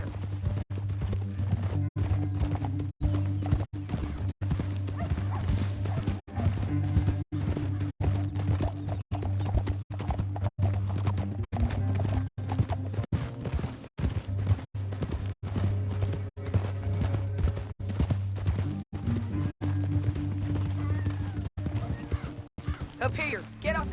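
Rhythmic horse hoofbeats from Red Dead Redemption 2 pound steadily throughout, with creaking tack and occasional voices mixed in.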